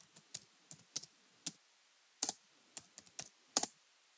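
Keys on a computer keyboard are tapped in short, irregular clusters of crisp clicks, close and fairly quiet, with gaps between bursts and no voices.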